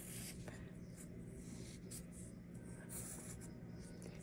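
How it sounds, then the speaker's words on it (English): Pen strokes scratching across paper while sketching a rectangular prism, a faint, continuous scratchy rustle with short repeated strokes, close to the mic and quiet. "So let's draw this rectangular prism."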